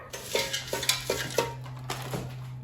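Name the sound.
frozen peas and carrots dumped into air fryer basket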